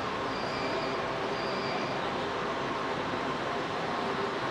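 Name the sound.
Kuala Lumpur metro train running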